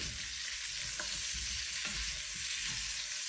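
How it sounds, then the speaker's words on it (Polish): Two large onions sizzle steadily in a hot pan while a utensil scrapes and stirs in a few soft strokes, close by. "I teraz to wszystko zamieszam."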